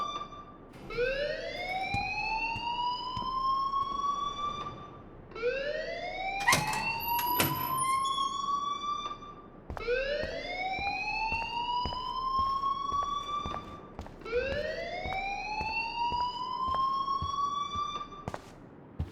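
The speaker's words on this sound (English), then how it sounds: "please turn off that alarm since that's your job." A fire alarm in the video game Life is Strange wails in rising electronic sweeps that repeat four times at an even pace, loud and steady with no voices.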